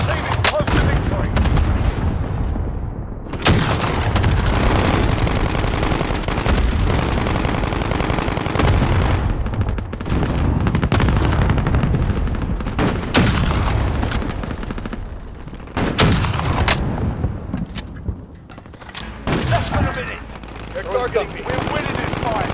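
A Call of Duty Modern Warfare battle brings a cluster airstrike, dense bursts of machine-gun fire and loud explosion booms. They come close and continuous, with brief lulls. An announcer-style voice speaks over parts of the fighting.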